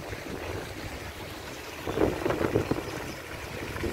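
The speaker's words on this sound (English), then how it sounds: "The new water fountain" A new water fountain shaped like Barbados in Queens Park, Bridgetown, splashes steadily outdoors, a continuous wash of falling water under wind noise, swelling slightly louder midway.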